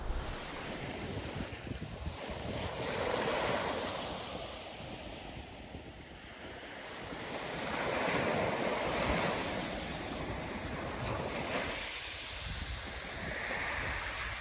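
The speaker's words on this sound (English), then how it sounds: "Listen to the sea" Sea waves wash onto the shore in slow swelling surges, with gusts of wind buffeting the microphone; a steady outdoor roar rises and falls without any voices.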